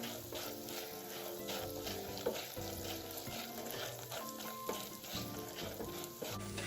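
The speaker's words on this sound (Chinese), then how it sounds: "接着再将切片后的腊肠加入与芋头粒一起煸一煸" Sliced Chinese sausage and taro cubes stir-fried in a wok, a busy sizzle with scraping and tossing clatter that comes and goes, close and alone with no voices.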